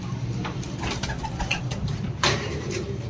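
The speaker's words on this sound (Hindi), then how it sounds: "ये देखिए पटियाला कबूतर अच्छे वजूद का" Patiala pigeons at a shop, low soft cooing repeated over a busy, noisy background with a brief louder rustle partway through.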